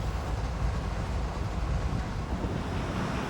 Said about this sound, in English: After the train of emptied cover hopper cars leaves Roseville